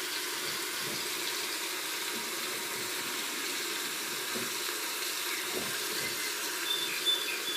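Tap water running steadily into a pot of rice, a continuous hissing gush of filling liquid heard close and alone, without talk.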